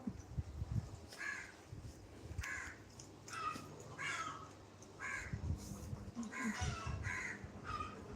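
Several harsh crow caws ring out in short bursts, repeating at fairly even intervals over a steady outdoor background hum.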